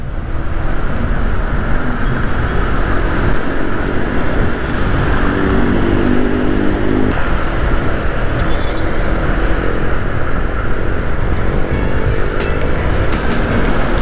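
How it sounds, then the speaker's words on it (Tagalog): Early-morning road traffic on EDSA in Manila: a continuous loud wash of car engines and tyre roar, heard from inside or beside a moving vehicle, with no clear breaks. "Ang dami pa rin kotse kahit madaling araw na."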